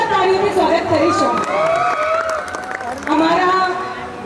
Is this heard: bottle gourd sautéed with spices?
no